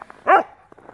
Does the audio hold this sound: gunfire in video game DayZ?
no